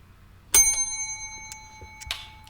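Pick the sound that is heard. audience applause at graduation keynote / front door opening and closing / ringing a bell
ringing a bell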